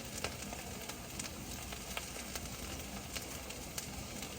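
Shredded hashbrowns frying in a pan on medium heat give a steady, even sizzling hiss with scattered soft crackles and pops, quiet and close, with no talking.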